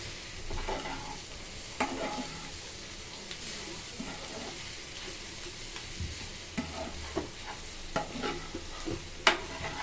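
Vegetable egg fried rice is stirred in a frying pan, where a soft steady sizzle runs beneath intermittent scraping strokes and light taps of the spatula.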